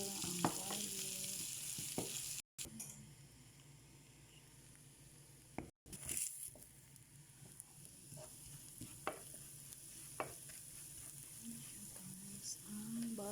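Garlic frying in a pan with butter, a soft continuous sizzle broken by occasional stirring clicks and scrapes, fairly quiet and close, with no one speaking.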